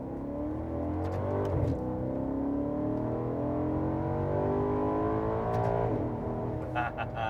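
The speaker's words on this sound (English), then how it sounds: "That glorious V8 sound." A 2009 Maserati Quattroporte Sport GTS V8 engine revs up and down in long sweeps, a deep, smooth roar swelling and easing with a couple of brief gear-change dips.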